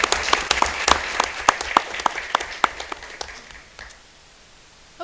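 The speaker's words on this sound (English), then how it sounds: "a round of applause to your family" At a Board of Education meeting, a small audience claps for a family, with distinct, crisp individual claps close by that thin out and fade to near silence after about four seconds.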